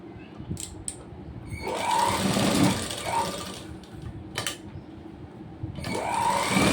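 A sewing machine stitches a blouse in short runs of whirring motor noise that speed up and slow down, close by, with small clicks between runs.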